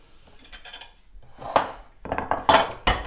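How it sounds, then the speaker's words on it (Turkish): Sun-dried tomatoes tipped from a container into a kitchen bowl, giving a few separate clattering knocks and clinks that build to sharper dish-like impacts near the end, close up with no talking. "Şimdi domates turunu kabıma boşatalım."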